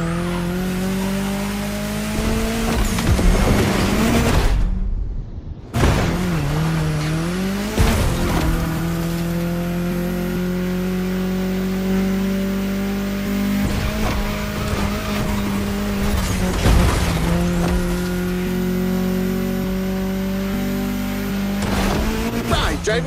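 A car in the video game The Crew Motorfest drives through Hawaii's state capital city, its engine droning loudly and steadily with shifting pitch, occasional tire squeals and a brief cutout partway through.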